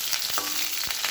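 Vegetables frying in a pan give a brief, soft burst of hissing sizzle with faint crackles, lasting about a second, with no voices.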